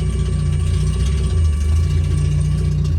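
Engine of a 1979 MG car, long neglected, running at a steady loud idle with a deep, throbbing low rumble, heard close and continuous, and no one talking.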